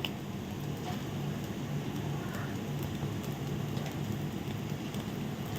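Mustard seeds sputter in hot oil in a pan while making peanut chutney, a dense steady crackle and hiss that runs without pause at moderate level, with no talking.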